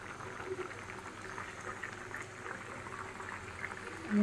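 Curry gravy simmers in a pan with green chillies and coriander leaves added, giving a steady, soft bubbling hiss throughout that stays fairly quiet, with a brief bump in level at the very end.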